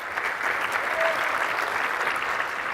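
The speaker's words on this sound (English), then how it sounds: "Let's give her a round of applause" Steady applause from a crowd, dense and continuous clapping that holds at an even level throughout.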